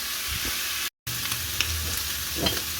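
Food browning in a frying pan, a steady close sizzle with faint scattered pops and light stirring touches, interrupted by a brief cut of silence just before the one-second mark, with no speech.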